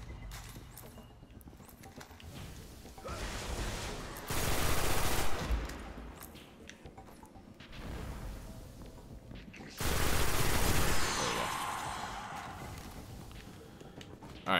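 Two loud bursts of sustained weapon fire in the Destiny video game Nexus Nightfall strike, each lasting about two seconds, rise over quieter background game ambience.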